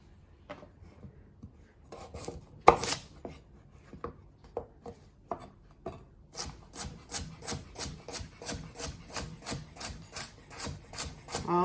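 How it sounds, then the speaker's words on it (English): A kitchen knife cuts carrots into pieces for borscht, starting with a few scattered cuts and settling into a steady, quick rhythm of close, quiet chops against a board. "I'm going to cut all of these carrots."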